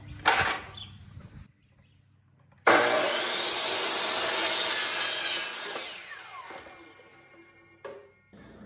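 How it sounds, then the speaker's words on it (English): Saw cutting 2x4 lumber boards to length: a short burst, then a loud sustained cut of about three seconds that tapers off, followed by a couple of brief knocks of wood. "I'm just going to finish cutting these 2x4s down to 6 foot"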